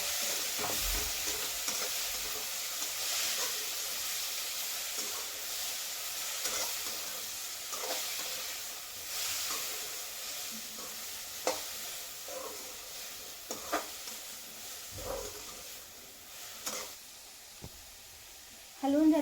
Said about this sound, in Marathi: आणि आता टाकूयात आपला कॉलीफ्लावर, फुलगोबी. आणि हे छानसं आपण हलवून घेऊयात.